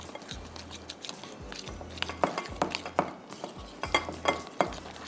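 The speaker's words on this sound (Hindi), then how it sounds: "अच्छी तरह से आप इसको मिक्स कर दीजिए।" A utensil stirs chicken roast ingredients in a pan with repeated scraping and clinking strokes in a steady rhythm, close and moderately loud.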